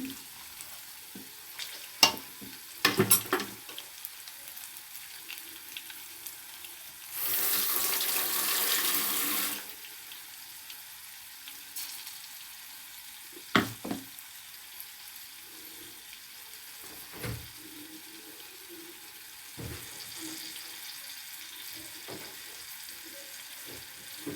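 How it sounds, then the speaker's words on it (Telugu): Ginger garlic paste fries in oil for a restaurant-style paneer masala curry: a faint background sizzle punctuated by spatula clacks, with a loud two-second gush of hissing partway through. "టేబుల్ స్పూను అల్లం వెల్లుల్లి పేస్ట్ వేసుకొని వేయించుకోవాలి"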